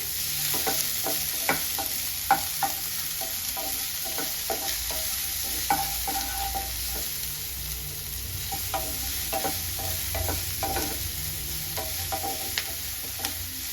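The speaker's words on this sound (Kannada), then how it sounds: "ಸೊ ಇಲ್ಲಿ ಕಾರ್ನ್ ಫ್ರೈ ಆಗಿದೆ. ಸೊ ಇವಾಗ ನಾವು ಇದಕ್ಕೆ ಕ್ಯಾಪ್ಸಿಕಮ್ ಸೇರಿಸ್ಕೊಳ್ತಾ ಇದ್ದೀವಿ." Corn and capsicum frying in butter give a steady, close sizzle for the whole stretch, broken by frequent sharp clicks and scrapes of stirring against the pan.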